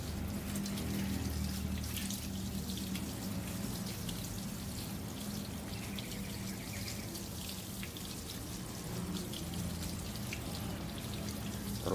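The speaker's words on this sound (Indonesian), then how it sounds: "Cukup dengan air yang bertekanan sedang saja atau cukup air mengalir." Running tap water at moderate pressure rinses a K&N air filter from a Suzuki FU 150 Fi Raider motorcycle, a steady splashing hiss that continues evenly throughout with no talking.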